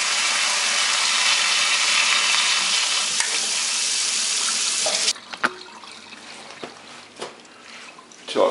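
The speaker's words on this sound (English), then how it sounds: "I put the cooker in the sink, push this up half a notch there, and just get" Cold tap water gushes loudly onto the lid of a pressure cooker sitting in a kitchen sink for about five seconds, then the flow stops and scattered drips, clinks and small handling knocks follow.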